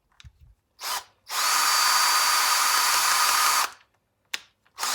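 A Yuhtech powered riveter runs to set a rivet: a short motor burst, then a steady high whine lasting about two and a half seconds, followed by brief clicks and quiet.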